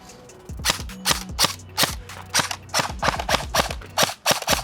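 An Arcturus CAT airsoft rifle firing outdoors, with a rapid series of sharp cracking shots in quick bursts and short pauses, loud and close, alone without speech.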